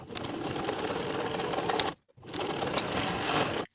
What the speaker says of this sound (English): Sew the side edges of the 5/8 inch seam allowance, catching that folded edge that we pressed under.